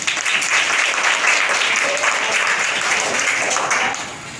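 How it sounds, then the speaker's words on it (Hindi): Crowd applause at a school event for a child, sustained mixed clapping from a gathered group that stays full and lively before thinning out at the very end. "बच्चे के लिए तालियां बजाइए।"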